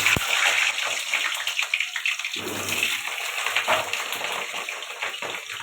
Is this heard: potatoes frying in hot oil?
yes